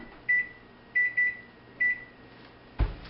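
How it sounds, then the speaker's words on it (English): Four short electronic beeps sound at uneven intervals, bright and close like a kitchen timer or microwave, followed by a dull thump at the end. "we're going to set our timer for 5 minutes"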